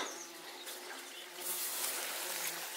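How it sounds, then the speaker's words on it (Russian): A forest stream flowing near the Kivchey river in late June, a soft steady trickle of water heard close by, brightening and growing slightly louder partway through, with no talk over it. "Здесь я слышу ручей течет."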